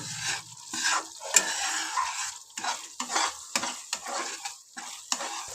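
Thick jaggery and tamarind puliyogare gojju bubbling in a pan as it is stirred, with soft sizzling and repeated scraping, clinking strokes of a utensil against the pan, close and moderately loud, no talk.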